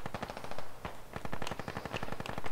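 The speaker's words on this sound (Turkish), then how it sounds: "Köprüye çok pis atış geliyor." Rapid automatic gunfire in the military shooter Squad, dense machine-gun bursts rattling almost continuously with overlapping shots from several weapons, loud and near.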